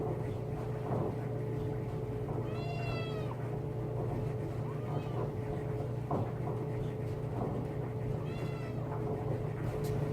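A cat meows a couple of times in rising, drawn-out cries while ear medication is applied at a veterinary nursing session, with a steady low hum and faint handling noises underneath.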